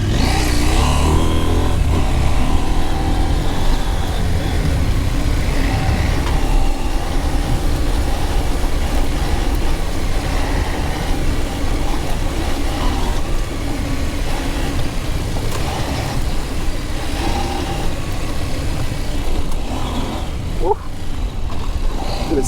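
KTM 790 Adventure R motorcycle engine revving and droning as the bike rides off-road over rough, sandy ground, steady and close, with brief voice sounds and wind buffeting.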